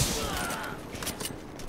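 A blast goes off in The Division video game, a loud broadband burst at the start that trails into scattered crackling bursts of gunfire-like pops.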